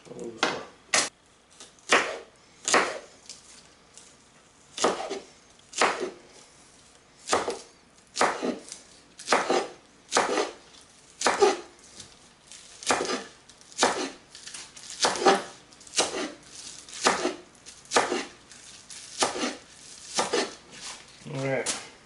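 Knife chopping green onions on a cutting board, a series of sharp, separate cuts repeating at an uneven, unhurried rhythm, close and clear with quiet gaps between strikes.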